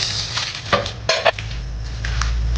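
A spoon scrapes and knocks against a cooking pot while vegetables are stirred with ginger, onion, chili, pepper and seasoning mix for a coconut-milk stew, giving a few distinct clanks over a low simmering hum.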